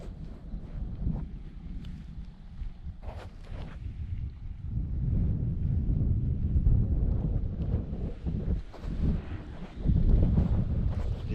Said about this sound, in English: The warm, dry wind will make chanting just a little more difficult.